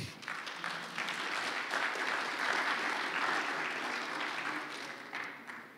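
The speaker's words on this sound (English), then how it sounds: "Everyone, a round of applause." Audience at a ZK9 conference talk applauding, a dense, steady wash of clapping that swells and then tapers off over several seconds, no talk over it.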